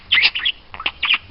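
A pet budgie gives a quick run of bright, close chirps and squeaky tweets in short bursts, loud and alone in a quiet room.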